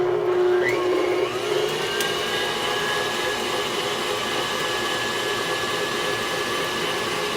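Electric mixer beating red velvet chocolate chip cake batter until creamy: a continuous steady motor whine with a brief pitch rise at the start, then a constant droning hum.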